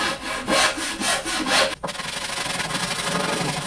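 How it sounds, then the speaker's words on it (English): Wooden edges of a toy box being rounded with a soft file and sandpaper, a steady close rhythmic rasping and rubbing in repeated strokes, then continuous scrubbing. "I'm just going to go over these edges with a soft file and round them out."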